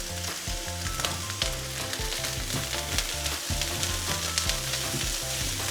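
Fried rice with Cumberland sausage, light and dark soy, tossed in a pan over high heat, loud constant sizzling with stirring scrapes and rhythmic clatter, no talking.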